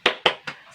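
Three sharp hand claps in quick, even rhythm, close and crisp, each snapping out and fading fast, with no voices.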